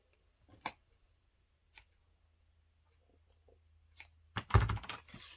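A few soft, scattered clicks and taps, then a brief burst of crinkly tearing near the end, as small pieces of sticky tape are pulled and pressed down onto a scrapbook album page.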